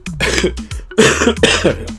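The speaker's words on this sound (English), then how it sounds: "The cough lingers." Three harsh, close coughs in quick succession, loud and raspy, with brief pauses between bursts.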